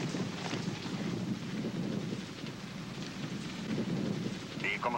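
Steady rain with deep thunder rumbling in a 1990 film scene, a constant wash of falling water at moderate level with low rolling thunder underneath and no voices.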